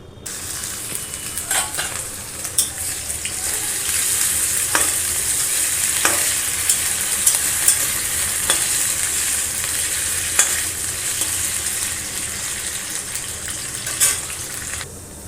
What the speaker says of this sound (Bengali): আলুগুলো ভাজা হচ্ছে